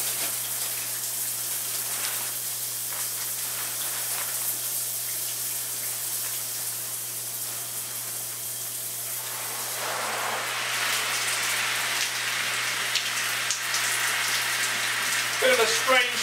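Steady hiss of a shower spraying and pattering onto a tactical bag, growing brighter and heavier partway through, with faint drips and rustles near the end.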